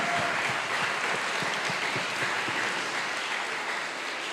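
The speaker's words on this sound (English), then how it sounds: "Let's give them a huge round of applause" An audience applauding 6th, 7th and 8th grade participants at a school STEAM fair, steady dense clapping from a crowd, loud and sustained throughout.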